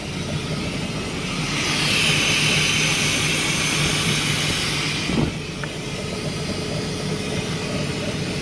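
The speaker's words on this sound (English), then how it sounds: "she's idling higher without the IAC plugged in." A swapped engine idles on a 1999 Formula 280 Sun Sport boat with the idle air control valve unplugged, running high and airy: a steady, loud drone that swells slightly midway, with a brief knock near the end.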